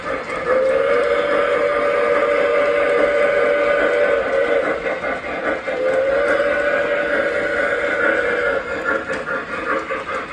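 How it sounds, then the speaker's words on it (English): An O scale model steam train whistle sounds two long steady blasts over a constant mechanical hum and chuffing, loud and close. "So then you can just hit your whistle and get right to work with this one."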